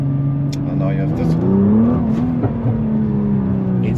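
A sports car engine revs on the throttle on Tokyo streets, a steady droning growl that swells and rises in pitch before settling, heard from inside the car with a voice over it.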